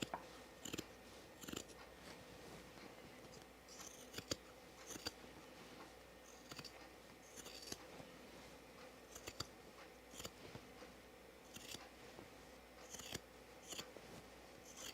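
Scissors snipping through dress fabric to leave a clean edge, a steady series of short crisp cuts repeating close by at a quiet level, with no talking.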